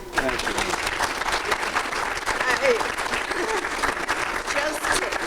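Audience applause at a company's 150th anniversary celebration, a dense, sustained wash of many people clapping at moderate distance, steady throughout with a few faint voices mixed in.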